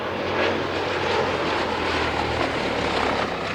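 A propeller airplane's engine drones steadily and loudly close by as it comes in to land at an evening air display, a broad continuous roar holding level throughout with no voices.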